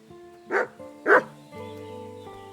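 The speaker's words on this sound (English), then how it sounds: "Call that dog to heel!" A dog in the medieval role-playing game Kingdom Come: Deliverance II gives two sharp, loud barks about half a second apart, followed by a low droning game ambience with no talk.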